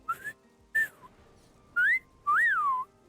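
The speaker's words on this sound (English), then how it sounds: "That's a whistle, baby." Four quick whistles, each a short rising or swooping tone, the last one longer with a bend down at its end, heard alone with no talking.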